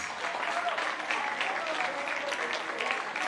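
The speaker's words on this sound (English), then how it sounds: "Big round of applause" Audience applause fills a middle school awards assembly after a group of students is named, a steady dense clapping at moderate level throughout.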